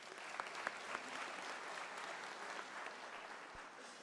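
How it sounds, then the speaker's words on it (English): Applause at a University of South Africa autumn graduation ceremony, a steady wash of distant clapping from a large audience that holds evenly for several seconds. "Can we give an applause to Zayed?"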